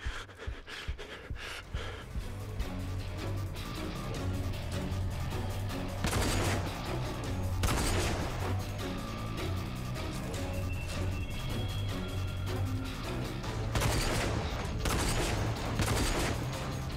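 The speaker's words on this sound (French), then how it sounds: "Pourquoi qu'il me tire dessus?" Gunfire from enemies in the shooter game RAGE: repeated bursts of shots and impacts over a steady low game drone, with heavier crashes at intervals and no one talking.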